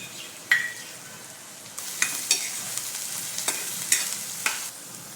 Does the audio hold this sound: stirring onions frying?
yes